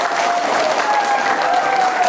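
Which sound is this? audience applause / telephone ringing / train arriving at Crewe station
audience applause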